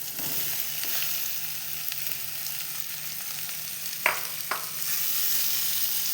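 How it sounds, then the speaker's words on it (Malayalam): Steady sizzle of potatoes frying in a pan with onions already sautéed soft for a vegetable kurma, continuous and close, with two brief clinks of something being added near the end. "ഇപ്പോൾ ഇതാ സവാള ഏകദേശം വഴന്ന് വന്നിട്ടുണ്ട്. ഇനി ഞാൻ ഇതിലേക്ക് ഉരുളക്കിഴങ്ങ് ഇട്ട് കൊടുക്കുന്നുണ്ട്."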